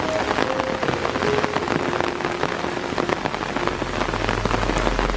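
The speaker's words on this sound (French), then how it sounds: "il s'est mis à pleuvoir sa mère." Heavy rain pours down suddenly on a street in South Korea, a dense, steady hiss of drops drumming on surfaces and an umbrella close by, with a low rumble building near the end.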